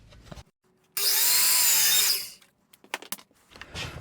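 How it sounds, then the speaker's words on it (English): A miter saw cuts a 15-degree miter in a wood board, one loud, sustained whining cut of about a second, then quieter clatter and handling noises close by. "I'm going to go ahead and cut 2 15-degree miters on the bottom of each of my pieces."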